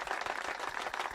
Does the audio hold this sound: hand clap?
yes